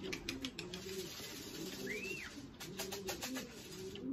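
Racing pigeons coo softly and steadily while drinking from a rain gutter, with low rolling coos repeating through the whole stretch, a brief higher call in the middle, and scattered wing and movement noises close by.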